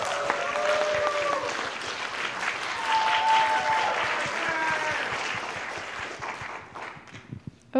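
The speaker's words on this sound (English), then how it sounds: "So why don't we give another round of applause for Angie's piece?" Sustained audience applause at a college electronic music concert, dense clapping with cheers that holds steady for several seconds, then thins and fades out near the end.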